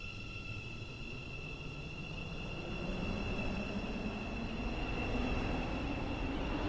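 A metro train in a railway video game passes at a distance, with a low rumbling roll that builds slightly and a thin steady high whine over the top, and no talking.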